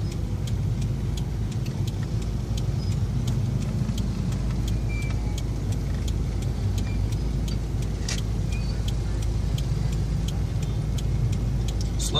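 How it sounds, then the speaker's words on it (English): A car sits in heavy, slow-moving traffic in Kampala, Uganda, with a constant low rumble of engines and road noise filling the whole stretch. The sound is steady and close, with no clear speech. "Slowly by slowly, I'll force my front end of the vehicle into the flow of traffic"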